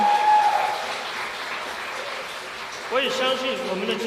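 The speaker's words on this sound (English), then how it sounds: "We hope that there will be a louder round of applause here." Applause at a press conference for the Xpeng IRON humanoid robot reveal, a moderate wash of clapping from a seated audience under a voice speaking over a sound system.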